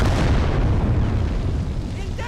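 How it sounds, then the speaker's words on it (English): Artillery shells bursting in the World War II strategy game Call to Arms - Gates of Hell: Ostfront, a loud, rolling barrage of booming explosions with heavy low rumble throughout, voices faintly mixed in. "Now I'm starting to get some artillery hits on our administrative area there."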